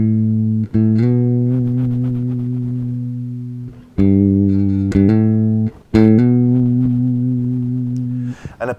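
Bass guitar sounding three sustained notes in sequence, each held for a few seconds with clean, steady tone and sharp attacks between them, played alone.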